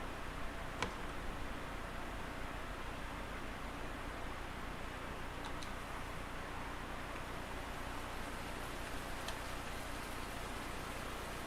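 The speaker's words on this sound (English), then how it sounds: "Perfect time for rain." Steady rain falls in the farming video game Farming Simulator 19, a constant, soft, even hiss with no variation and no voices.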